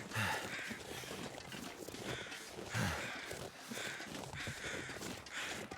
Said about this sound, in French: il y a des oiseaux là